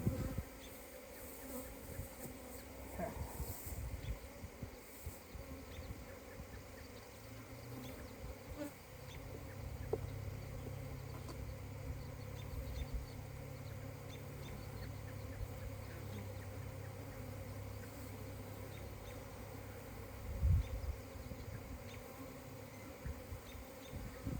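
Honeybees buzz around an open hive during an inspection, with drones among them. A faint, continuous swarm hum fills the background, and a low droning tone rises now and then, with a brief bump near the end.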